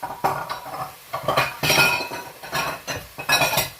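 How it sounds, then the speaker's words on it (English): A metal colander set down over a bowl in a kitchen before draining lobster and scallop chowder juices, giving a series of close clinks and clatters in irregular bursts. "I'm going to put my colander over a bowl to reserve some of that juice"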